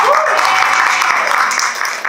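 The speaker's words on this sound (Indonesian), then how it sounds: "Tepuk tangan." Children clap after a storytelling session, a short burst of loud, steady applause with a voice carrying over it.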